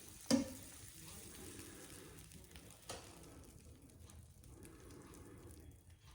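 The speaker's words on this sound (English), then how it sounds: "this will fry up the pancake, kind of like a donut" Pancake frying in margarine in a pan, a faint, steady sizzle with a sharp clatter near the start and another soft knock about halfway through.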